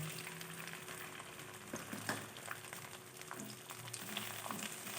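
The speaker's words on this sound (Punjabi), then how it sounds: "ਹੁਣ ਇਹਨੂੰ ਕਰਾਂਗੇ ਥੋੜ੍ਹਾ ਜਿਹਾ ਫਰਾਈ।" Chopped okra (bhindi) frying in mustard oil in a pan, giving a soft, steady sizzle and crackle with faint stirring noises, quiet and continuous throughout.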